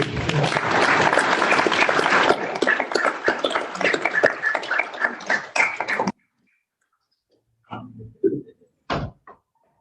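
Mourners at a celebration of life memorial service clap together, loud dense applause for about six seconds that stops abruptly, followed by a few soft thumps and knocks in near silence.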